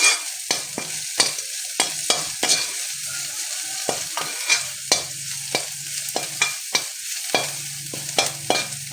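Ingredients stirred and dry-roasted in a pan with a spatula, a steady run of scraping knocks and strokes against the metal over a faint low sizzle, close and moderately loud, with no talking.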